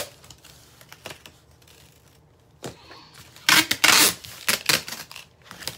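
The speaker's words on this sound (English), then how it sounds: "close up the box like this, and then just tape it" Packing tape is pulled and pressed onto a cardboard box holding a wreath, with scattered taps and handling noises building to a loud tearing screech and crackling bursts, close by, with no talking.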